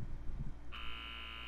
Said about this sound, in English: I hear the alarm.